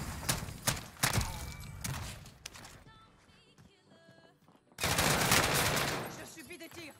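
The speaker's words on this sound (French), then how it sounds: "Je subis des tirs." Video game gunfire crackles in dense bursts, loud at first, then drops away into a quieter gap before another heavy burst of rapid shots returns near the end.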